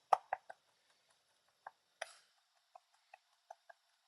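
A kitchen knife mincing anchovies on a board: sparse, crisp taps in an uneven rhythm, close and quiet, with short gaps between strokes.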